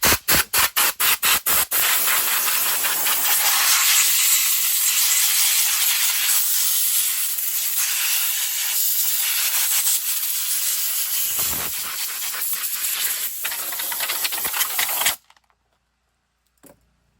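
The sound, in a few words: air compressor air gun blowing dust off chainsaw filter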